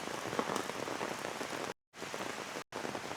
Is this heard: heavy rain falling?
yes